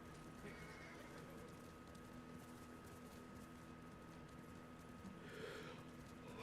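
Horse neighing and hooves in the Ghost of Tsushima video game, a faint whinny early on and a brief louder burst near the end over a steady low wind-like background, with no speech.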